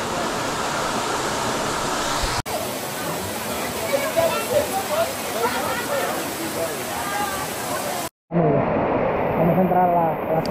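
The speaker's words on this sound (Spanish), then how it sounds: "Es cascada con fuerza, ¿eh?" A powerful waterfall in Puerto Rico roars as a loud, steady broadband wash that fills the whole clip. Voices and chatter can be heard faintly beneath it, and the recording cuts abruptly twice.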